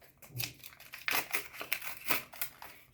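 A plastic packet of face masks is handled and opened, giving quiet, irregular crinkles and crackles in short bursts, close to the listener with no speech.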